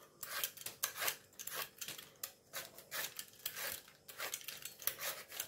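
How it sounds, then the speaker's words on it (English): Taro being peeled with a potato peeler: rapid, repeated close scraping strokes in an uneven rhythm, each a short rasping swipe, with no talking. "Peel the taro guys with a potato peel"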